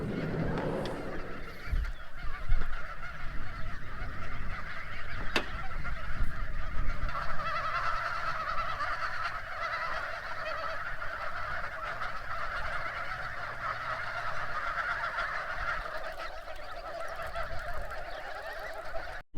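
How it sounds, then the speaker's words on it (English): A flock of geese honking at a campsite in rural France in the morning, a continuous chorus of calls at moderate distance with louder bursts near the start. "the geese are going to be coming out very soon"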